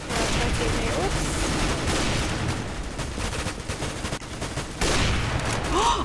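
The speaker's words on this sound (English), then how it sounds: "No, I sniped a guy." Gunfire in the video game CS:GO, including sniper rifle shots: dense, loud bursts and booms that run almost the whole time, with voices mixed in.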